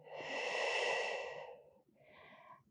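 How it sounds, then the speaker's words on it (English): Pilates breathing during a leg-kick exercise: one long, audible breath through the nose or mouth, followed by a shorter, softer breath, both close and clear, with no speech. "So the breathing is 2 inhales with the 2 kicks, 1 exhale as you press behind."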